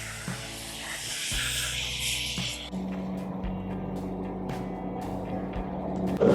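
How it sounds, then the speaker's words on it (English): Definition spray, a hair styling product similar to sea salt spray, hisses out in a steady close burst for the first couple of seconds, then gives way to quieter handling noise and a low hum. "This is definition spray, statement, and it's a little bit comparable with sea salt spray."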